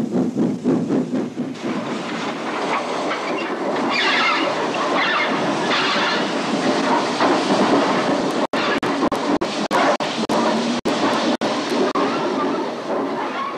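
A 1899 steam locomotive working at railway exchange sidings, a steady rumbling roll with rhythmic chuffing and clanking, growing louder mid-way, then sharp intermittent clicks near the end.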